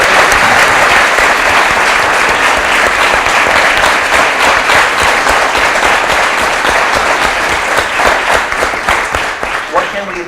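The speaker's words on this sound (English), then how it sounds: "So another round of applause for you and for your teacher." Sustained, dense audience applause for a performance at a judged music event, loud and steady throughout, with many hands clapping together before it begins to thin slightly near the end.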